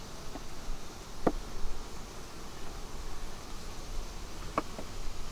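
Honeybees hum at an opened, strong hive. The buzzing is a faint, constant drone, broken by a couple of brief sharp clicks or taps.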